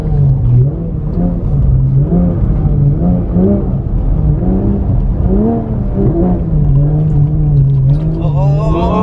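A Porsche GT3 RS drifts, its engine wailing and revving in repeated rising and falling sweeps, loud and close, as one slide links into the next.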